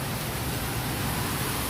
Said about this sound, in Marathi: तिकडचं एवढा पाऊस आहे.